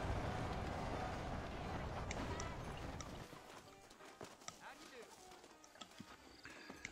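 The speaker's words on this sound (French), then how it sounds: "On va aller voir si on fait un tour de cheval" Horse hoofbeats clip-clop at a steady gallop in the Red Dead Redemption video game. Loud, dense game noise comes first, then a faint, rhythmic trot plays under a quieter soundscape.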